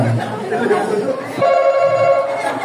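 A telephone rings with a steady electronic tone during a Family Feud-style party game, starting partway through and holding to the end, heard over chatter and voices in the room.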